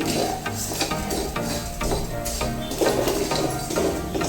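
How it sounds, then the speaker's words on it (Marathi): Rice grains roasting in ghee in a pan while being stirred, a steady dry scraping and rustling with soft sizzle and periodic utensil knocks against the pan, close and continuous. "तांदूळ अगदी व्यवस्थित भाजत आहे"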